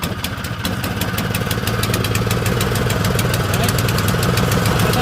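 123cc Powermore snowblower engine running after a carburetor cleaning, a loud, close, steady rapid putter with a faint high whine on top.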